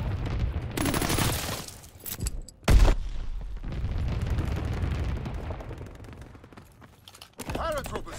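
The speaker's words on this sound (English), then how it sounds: "Fighter pilot inbound, strafing the target." Fighter aircraft strafing a target with gunfire, bursts of rapid firing and a sharp boom rising out of a loud, rumbling battle din, with voices heard at moments.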